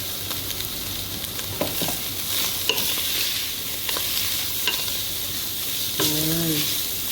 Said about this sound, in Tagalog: Then, let's add now the chicken. Yan. Stir and fry.